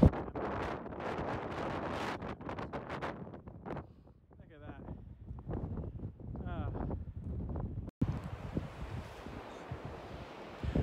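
Heavy wind buffets a nearby camera microphone on the coast path between Westward Ho! and Tintagel, with loud, rumbling gusts, and a person speaks briefly underneath the roar.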